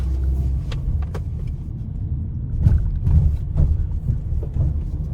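An Opel Combo Cargo van with a 1.5-litre 130 hp engine drives over a speed bump, its low cabin rumble steady throughout, broken by a couple of dull suspension thumps and light rattles midway.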